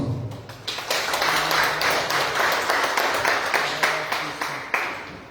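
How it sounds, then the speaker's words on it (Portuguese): A congregation at a worship service applauds in praise, producing sustained, fairly loud clapping with some rhythmic accents, while a voice speaks over the start. "Aplaude o Senhor"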